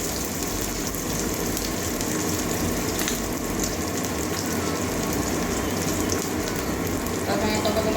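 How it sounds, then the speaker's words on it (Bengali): Cumin and bay leaf fry in hot oil, followed by chopped onion, making a steady, dense sizzle that stays even and close for the whole stretch. "জিরে তেজপাতা ভাজা হয়ে গেছে এবারে একটা বড় সাইজের একটা পেঁয়াজ কুচি করে নিয়ে আসি"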